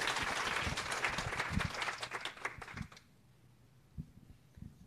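An audience at a startup founder event claps for a presenter, moderately loud applause that fades out after about three seconds, followed by quiet room noise and a couple of faint knocks.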